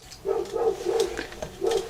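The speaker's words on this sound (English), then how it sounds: "Neighbor's dog barking." A neighbor's dog barks in a few muffled, somewhat distant bursts heard over a quiet indoor background.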